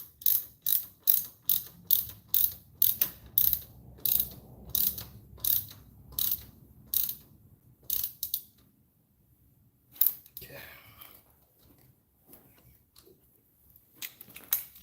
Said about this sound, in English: I can get it just by kind of wiggling the ratchet down into place